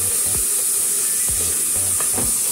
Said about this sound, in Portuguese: acrescentar agora o tomate, o coentro. Vamos mexer para refogar.